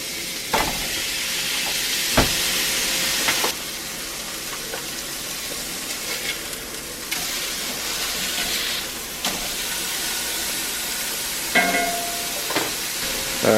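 Burger patties frying in vegetable oil in a cast iron pan, a loud, steady sizzle and hiss with a few clanks and scrapes.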